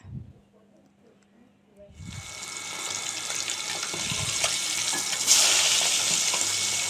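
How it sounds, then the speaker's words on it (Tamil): Snakehead fish pieces frying in oil with masala, a loud steady sizzle that swells after a quiet start, with a brief voice early on. "இந்த மாதிரி எண்ணெய் ஊற்றி வறுத்திக்கினாதே உள்ளே நல்லா வேகும்"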